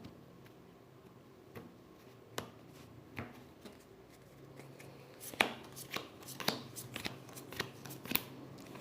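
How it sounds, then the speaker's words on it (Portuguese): Tarot cards are shuffled by hand close to the microphone, a series of quiet, crisp card flicks and slaps that grows busier and louder toward the end, with no talking. "Vou embaralhar."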